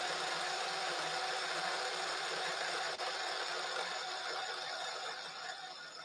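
A Turin DF83V coffee grinder runs at 300 RPM with a steady, close mechanical whir and grinding hiss that holds even throughout, briefly dipping near the middle and easing slightly toward the end.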